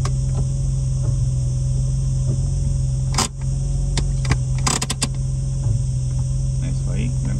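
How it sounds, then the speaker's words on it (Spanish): Cicadas buzz in a steady high drone through an outdoor parking area in Alicante, Spain, with a low traffic hum underneath and a few short clicks and knocks. "Uy, como suenan las chicharras, ¿eh?"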